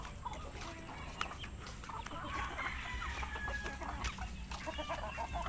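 A Spangle chicken clucks in short, soft bursts close by, with other fowl faintly around it on a quiet farmyard and a steady high hum in the background.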